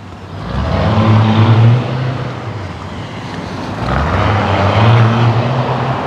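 A plane takes off near Lake Worth Beach, its engine roar swelling loud and rumbling twice in succession through wind noise.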